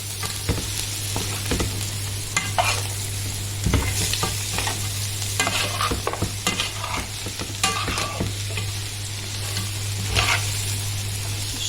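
Garlic, onion powder and meat spices are stirred in a sizzling pan, a steady frying hiss punctuated by repeated scraping and clinking of the spoon against the pan, with a constant low hum underneath.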